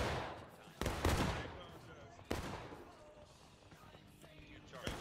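Gunfire and artillery in a Civil War video game, two sharp booming blasts with rumbling decay and scattered distant shots between them, fairly quiet overall.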